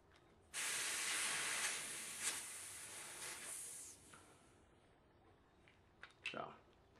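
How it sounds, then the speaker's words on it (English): Compressed air bursts out as a loud, close hiss when the hose is twisted off a Drozd Blackbird air gun's air tank, holding for a few seconds and then tapering, followed by a couple of small hissy puffs. "You can take the air tank and go ahead and twist off the hose here to release the pressure"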